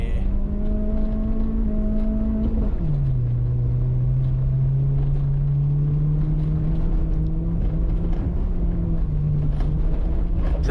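A front-wheel-drive rally car drifts at a rallycross event, heard from inside as a loud, steady engine drone. The pitch drops as the car shifts, then slowly climbs again, under constant road and gravel rumble.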